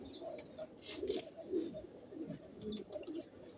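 A teddy pigeon cooing softly nearby in a few low, throaty coo phrases, with faint chirps and a high background tone in a quiet setting.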